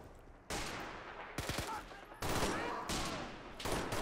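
Heavy mortar blasts and gunfire in the video game Men of War Assault Squad 2, several loud booming explosions with rumbling decay and bursts of shots, dense and close.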